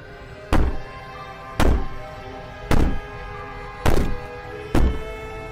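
Heavy banging on a door in the psychological horror visual novel Slay the Princess: five loud, booming thuds at roughly one-second intervals over a sustained droning backdrop, with no talking.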